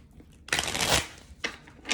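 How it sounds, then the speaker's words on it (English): A close, crisp riffle of tarot cards being shuffled, one long burst followed by a shorter second shuffle. "Do one final shuffle."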